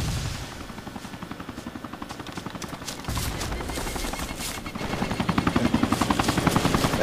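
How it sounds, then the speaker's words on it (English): A helicopter in the military shooter ArmA 2 flies overhead with a steady rotor drone, mixed with bursts of gunfire and combat noise, growing louder toward the end. "Helicopter's ours."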